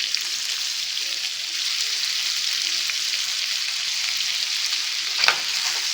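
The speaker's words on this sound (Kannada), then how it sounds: "ಎಲ್ಲ ಚೆನ್ನಾಗಿ ಫ್ರೈ ಮಾಡ್ಕೊಳ್ಳೋಣ ಅಂತ." Chicken with ginger-garlic paste frying on a tawa for chicken tikka, a steady, loud sizzle running throughout with one brief clink near the end; no talking.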